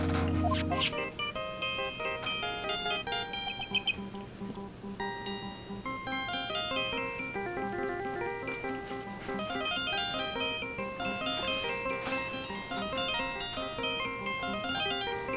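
Phone ringing in Phoenix Wright: Ace Attorney Justice For All, a bright electronic chiming melody of stacked tones repeating steadily over game music, clear and continuous with no talk.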